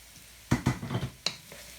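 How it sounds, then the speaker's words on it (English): Onions and garlic frying in a pan for Indonesian mee goreng, close-up bursts of stirring and sizzling, with several sharp scrapes over a low continuous hiss. "Don't you just love the scent of onions when it's frying, and garlic?"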